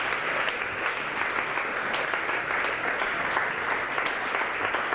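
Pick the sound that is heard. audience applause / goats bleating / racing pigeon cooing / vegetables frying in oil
audience applause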